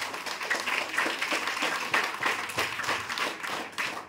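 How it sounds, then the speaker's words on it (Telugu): Students clapping together in a school gathering, a rapid, uneven patter of many hands that rises and falls in loudness across the whole stretch, with no talking over it. "మీకు నచ్చినట్లయితే గట్టిగా చప్పట్లు కొట్టండి"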